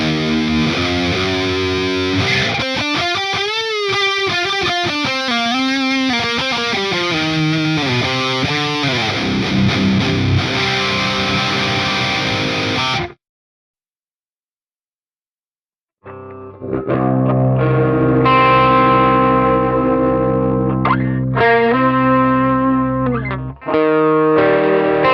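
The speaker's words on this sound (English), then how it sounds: "Right now it's on the chorus mode, so let's see how that sounds." Heavy distorted electric guitar runs through a modulator pedal set to chorus mode, sounding as loud, warbling sustained chords and riffs, then a short silence before more chords.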